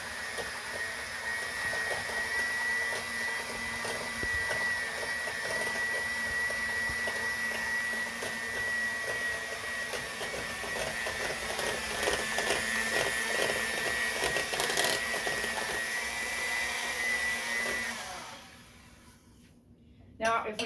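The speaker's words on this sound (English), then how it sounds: "You could do this by hand, but I got my mixer." An electric hand mixer beats a savory onion dip, a steady close motor whir with a high whine that runs for most of the stretch and then stops near the end, with faint talk beneath.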